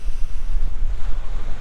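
Seaside wind on the north of Siargao, a gusty low rumble buffeting the microphone in uneven surges, close and fairly loud with no voices.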